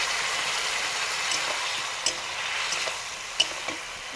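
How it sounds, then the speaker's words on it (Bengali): Mustard paste goes into a pan of frying ash gourd, and a steady close hiss and sizzle follows, broken by a few light clicks of a stirring utensil. "চাল কুমড়ো ভাজা হয়ে গেছে। এবারে আমি সরষে বাটা দিয়ে দিলাম"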